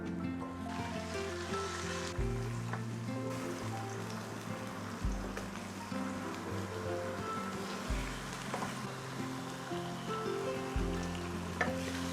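Tofu sizzles and fries in a pan, a continuous crackling hiss with small spattering pops and occasional stirring scrapes, heard close and steady under soft background music.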